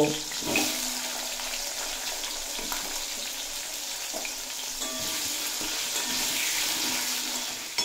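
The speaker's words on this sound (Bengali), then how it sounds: "আর ওই একই তেলে আলুও বেশ লাল লাল করে ভেজে নেব।" Potatoes fry in hot oil in a home kitchen, a steady close sizzle and crackle that runs the whole time with a few soft stirring knocks and no voices.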